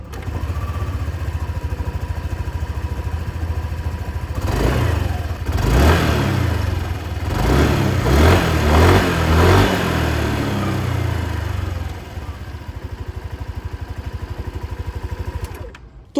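A 2025 Yamaha Aerox 155 Version S maxi scooter idles steadily, then its engine is revved in several rising bursts through the exhaust before it drops back to an even idle, close and loud with no talking.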